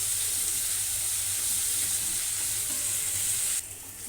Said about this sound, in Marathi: आणि कांदा घालून परतून घ्यायचा कांदा कांदाही छान भाजून घ्यायचा